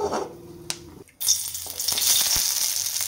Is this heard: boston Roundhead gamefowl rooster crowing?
no